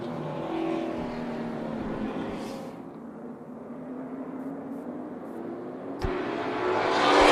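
Race cars at Tucson Speedway fire off on a night-race restart, their engines droning and building in pitch from a distance. A sharp thump is followed by a louder, closer surge of engine noise at the end.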